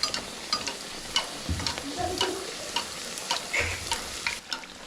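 Rice puri deep-frying in hot oil, a close, steady sizzle with intermittent scraping and tapping from the utensil as it is turned, and no voices.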